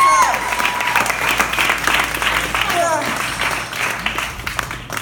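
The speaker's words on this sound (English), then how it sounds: "So clap for yourselves." An audience claps for itself at a poetry feature event in Oakland, a lively burst of applause with cheering and scattered voices over it, and a whistle or whoop rising above the crowd.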